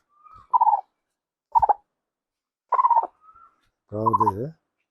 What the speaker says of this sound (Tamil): இப்போ நம்ம கோழியை வந்து கொண்டு வரலாம்